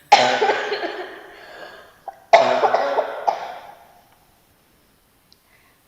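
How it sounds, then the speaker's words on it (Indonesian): Coughing from a teacher during an online talk, two loud harsh bursts of repeated coughs close to the microphone, separated by a brief pause and followed by quiet. "Maaf ya Pak, lagi batuk nih."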